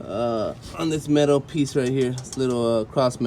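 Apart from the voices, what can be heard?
No everyday noise stands out behind the speech.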